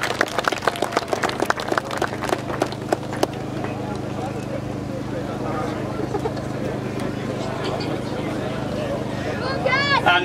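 An audience at a motor show awards ceremony in Dumfries claps, with a burst of sharp, fairly close applause in the first few seconds that fades into murmuring crowd noise and background hubbub.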